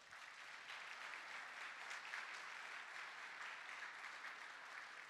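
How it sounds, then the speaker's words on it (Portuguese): A church congregation applauds during a Sunday morning sermon, a steady, dense wash of clapping heard from a distance and fairly faint, with no voices over it. "Vamos aplaudir o Senhor?"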